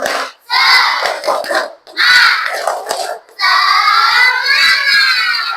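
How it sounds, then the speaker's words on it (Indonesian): Schoolchildren in an Indonesian classroom shout a rhythmic clapping chant together, loud bursts of unison voices broken by short pauses, ending in a long sustained group shout, with claps mixed in close by. "Ibu mau dengarkan tepuk semangatnya"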